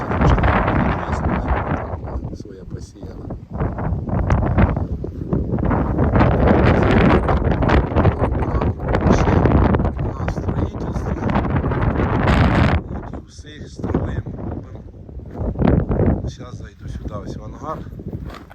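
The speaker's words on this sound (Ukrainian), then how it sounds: "вітер і не знаю, як вам там було чути" Gusty wind buffets the microphone outdoors on a farm base with a 1.5-hectare hangar plot, roaring loudly and continuously for the whole stretch with brief lulls near the end.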